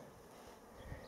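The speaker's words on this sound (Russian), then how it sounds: "И сколько пчелок здесь работают на него." Bees buzzing among blossoming pear tree flowers in a garden, a faint, steady drone close by with a slightly louder pass near the end.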